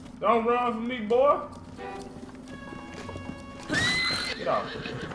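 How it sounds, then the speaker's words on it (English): Horse in The Legend of Zelda: Breath of the Wild, in Kakariko Village, whinnies twice in short bursts, then gives a louder neigh with hoof clip-clops, while someone talks over it. "See if I can take one of these horses."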